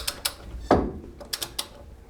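A torque wrench tightening a suspension bolt on a Chevy truck front end clicks several times, with one louder snap at the final torque among lighter ratcheting ticks, close by with no talk.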